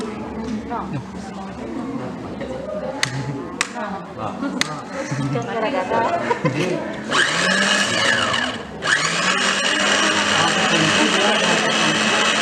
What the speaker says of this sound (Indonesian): Kemudian ini daun pepaya dan air secukupnya ini di blender hingga halus.